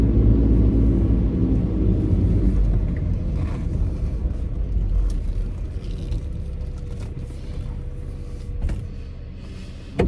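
A Toyota Tacoma pickup pulls away, its engine a steady low rumble with road and tire noise that eases slightly as it moves off, alone without talk.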